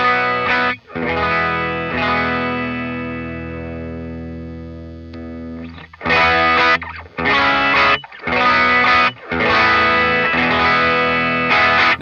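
An electric guitar plays through a dry tone shared by two matched Matchless channel 2 amps with matched IRs, heard as sustained distorted chords that ring and decay, then short bursts of strummed chords with brief gaps, loud and close.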